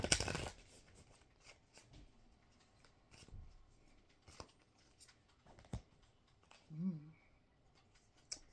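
Self-care cards are shuffled and drawn in a quiet room, giving a burst of riffling at the start and then scattered soft slaps, slides and taps of individual cards, close and faint.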